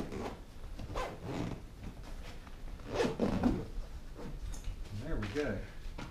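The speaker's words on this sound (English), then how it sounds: "Let's try zipping it up and make sure it fits really good" A zipper runs along an iLugger carry bag made for a 5K 27-inch iMac, several ripping zip strokes close by with someone talking over much of it.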